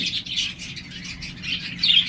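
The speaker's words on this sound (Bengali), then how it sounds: "গ্রিন ফিশার একজোড়া লাভবাট পাখি রয়েছে" Dense, continuous chirping of lovebirds, steady and fairly loud throughout, with a low background hum underneath.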